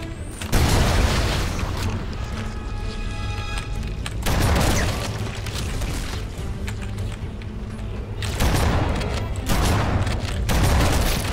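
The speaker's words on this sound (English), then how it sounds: "Let's try to get a grenade in there." Grenade blasts and gunfire in Halo: Combat Evolved Anniversary, loud booming bursts that recur every few seconds over a dense, continuous battle roar.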